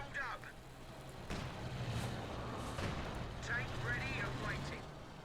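A Cromwell tank fires its main gun in a Company of Heroes 2 match, several sharp booms over ongoing battle noise and effects, with no voices heard.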